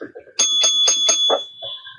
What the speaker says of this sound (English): We ringing the bell for a real smile.